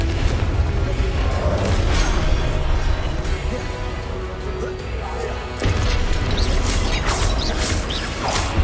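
Repeated Confringo blasting-spell explosions in the game Hogwarts Legacy, heavy booming crashes against loud continuous combat noise, with a voice speaking between blasts.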